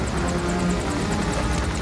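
Helicopter in a film scene, with a steady rotor and engine drone holding at a constant level throughout, close and fairly loud, with no talk over it.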